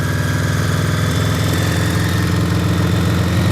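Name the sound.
Honda Goldwing GL1100 motorcycle engine idling in the cold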